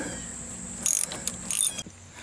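A ratchet wrench clicks in two quick bursts while tightening a brake caliper bolt on a 1999 Dodge Dakota, close and crisp over a quiet garage background.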